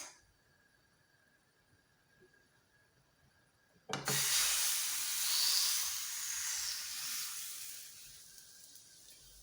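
Crêpe batter poured into an oiled frying pan over medium heat, starting a sudden loud sizzling hiss after a few quiet seconds and then holding steady up close.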